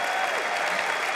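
A crowd at a political interview event with Rep. Grace Meng claps briefly, giving a dense, even burst of applause close by.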